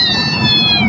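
An orphaned kitten meows loudly and close by in a single drawn-out, high-pitched cry that wavers slightly, with faint background rumble and no talking.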